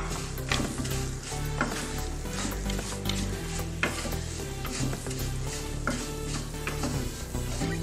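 Vermicelli frying in a pan for sheer khurma, stirred constantly, with busy scraping and clattering strokes over a continuous sizzle.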